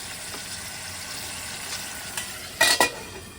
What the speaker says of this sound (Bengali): এবার শুধু চিংড়িটা ঢেলে ঢেকে ফ্লেমটা